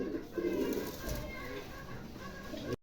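A pair of Dragon breed pigeons coo softly in a low, throaty, repeated rhythm, close by, with faint background noise.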